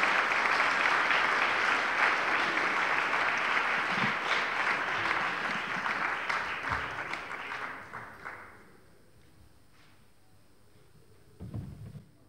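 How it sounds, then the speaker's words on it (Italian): Prolonged audience applause at an awards ceremony for CONI sports honours in Novara, a loud dense clapping that fades out around eight seconds, followed by near silence and a brief thump near the end. "io vorrei veramente un applauso forte per Guglielmo."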